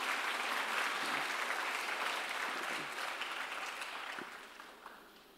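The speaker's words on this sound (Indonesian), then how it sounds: "Aplaus untuk guru-guru kita," An audience at a school speech applauds the teachers, producing a sustained, fairly distant clapping that gradually fades over several seconds.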